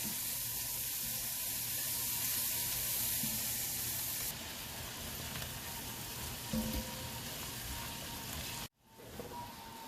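Beef cheeks fry and caramelize in rendered beef fat, giving a loud continuous sizzle and spatter that drops in intensity partway through, then cuts off abruptly near the end before a faint hiss returns.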